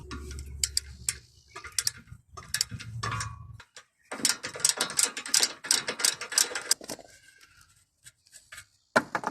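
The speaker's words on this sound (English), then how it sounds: "So what you're going to do right now is to take out this bolt right here." An 18mm bolt being worked loose from the front shock of a VW Passat B7, heard as close ratcheting clicks and metallic mechanical rattling in bursts with short pauses.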